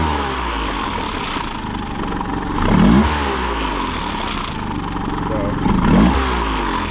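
Restored Honda 20hp outboard motor running steadily, then revving up twice on the throttle, near and loud, while someone talks over it.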